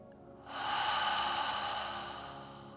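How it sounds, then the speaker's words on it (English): A long, deep breath drawn in steadily and released slowly, soft and close, with no talk over it, the kind of slow cleansing exhale taken to relax during meditation. "let's let our body rest now and relax by taking a nice, long, cleansing, deep breath."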